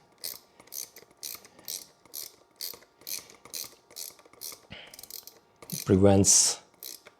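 A ratchet wrench snugs down a battery terminal on a Ducati Multistrada 1260S, giving a steady run of about a dozen short, evenly spaced clicks, followed by a brief louder mechanical clunk near the end.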